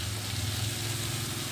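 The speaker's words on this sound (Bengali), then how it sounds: "ঠিক এইভাবেই ঢেকে ঢেকে কষানো হবে" Chopped banana flower for ghonto sautés in a pan over low to medium heat, a steady soft sizzle with a low hum running beneath it throughout.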